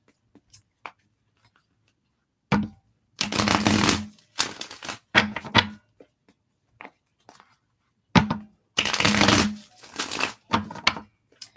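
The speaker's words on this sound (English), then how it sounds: "One more shuffle for Scorpio." Tarot cards are shuffled in brisk bursts, each a dry, rapid riffle and slap, separated by quiet pauses, close and fairly soft.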